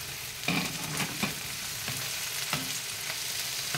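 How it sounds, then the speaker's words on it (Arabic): Onions and peppers frying in a pan with a little sugar, a steady sizzle broken by several louder bursts as the vegetables are stirred, close and with no talking. "أول ما بتدبل أهي كده بنزل الفلفل عليها."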